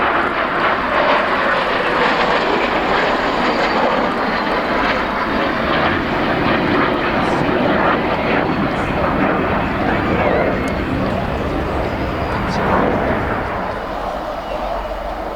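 A French Navy Super Etendard jet roars past at a naval air station airshow, a loud, continuous engine rumble and hiss that lingers and slowly fades, while a commentator talks over it.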